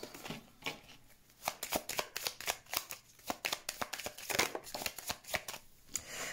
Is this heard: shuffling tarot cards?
yes